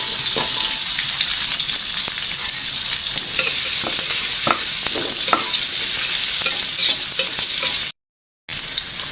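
Shallots and garlic fry loudly in a hot pan for a Sundanese squid and green chili stir-fry, a dense continuous sizzle with scraping stirs throughout, briefly cutting out near the end.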